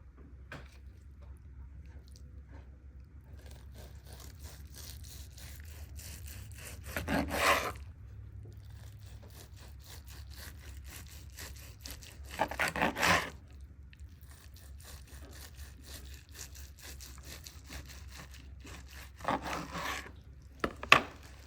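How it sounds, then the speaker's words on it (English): A knife saws through smoked brisket in repeated soft strokes, with a steady low hum underneath and three louder cutting bursts spaced several seconds apart. "I'm gonna slice this."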